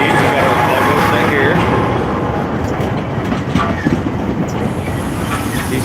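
A train led by a Siemens Charger locomotive rolls past close by, a loud continuous rumble with rhythmic clickety-clack from the wheels over the rails.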